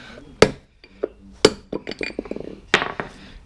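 A bushing being tapped flat into a PermaGreen Triumph spreader rear wheel assembly using a socket as a driver, giving several sharp metallic knocks and clinks spaced out with small rattles between them.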